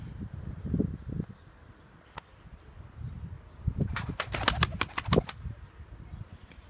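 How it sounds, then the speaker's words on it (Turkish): Young sabune performing pigeons, about four months old, coo softly and then flap their wings in a quick burst of sharp beats. The sound is close and clear, with no talk. "Yeni getirdiğimiz sabuneler de öyle kanat çırparak içeriden atlayarak çıktılar direkt."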